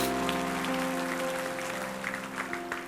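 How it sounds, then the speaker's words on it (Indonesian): Congregation applause during a church sermon service, a sustained crackling wash of clapping over a steady organ or keyboard drone, moderately loud and continuous throughout. "kasih tepuk tangan untuk Tuhan"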